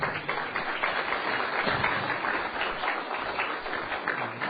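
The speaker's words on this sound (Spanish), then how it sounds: "Gracias por el aplauso." Applause from an audience at a lecture on the history of Christianity, a dense run of clapping that holds steady and fairly close for several seconds.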